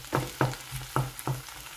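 Meat filling for meat pies is stirred in a pot, with five or so distinct scraping strokes in a steady rhythm over a soft frying sizzle, close and moderately loud.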